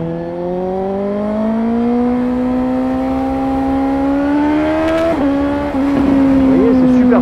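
A motorcycle engine accelerating with a steadily climbing tone, close and prominent, then a brief pitch dip near a gear change before it rises again, with some wind noise.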